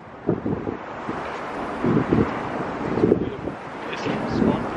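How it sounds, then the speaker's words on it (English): A strong, cold 20 mph wind on a 40-degree winter walk buffets the microphone in rough, rumbling gusts that rise and fall over several seconds. "It's 40 degrees. 20 mile per hour wind."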